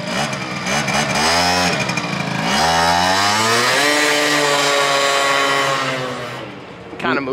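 A motorcycle engine revs hard during a wheelie, a loud, close, rising and falling buzzing whine that holds steady for several seconds before easing off.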